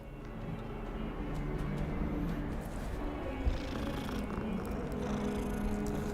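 A steady, low rumbling cat purr from a video game, felt through the controller, runs continuously from start to finish, close and even, with no voices over it.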